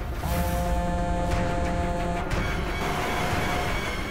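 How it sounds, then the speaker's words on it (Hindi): Steady car traffic on a city road, a continuous broadband rumble with a brief passing whoosh midway, with no voices over it. "अरे ट्रैफिक, अभी ट्रैफिक मिलना था क्या?"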